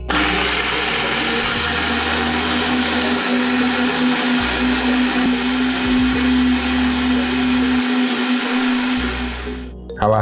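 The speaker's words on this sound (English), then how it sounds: "So I'll add water and blend." A blender runs continuously at a loud, steady whir, grinding hibiscus flowers, water, dry chili pepper, peppercorn, grains of Selim and cloves for Sobolo drink, then cuts off abruptly at the end.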